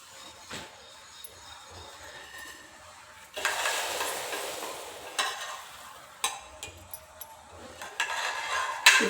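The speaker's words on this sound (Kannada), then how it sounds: "ಹಾಲು ಖೀರಿಗೆ ಲಾಸ್ಟ್ ಇದು ಶಾವಿಗೆ ಮತ್ತು ಎಲ್ಲ ಹುರ್ಕೊಂಡಿದ್ನಲ್ವ, ದ್ರಾಕ್ಷಿ ಎಲ್ಲ ಹಾಕ್ತಾಯಿದ್ದೆ." Raisins tossed into roasted vermicelli in a pan while making milk kheer, soft sizzling and stirring scrapes that swell midway, with a few light metallic clinks nearby.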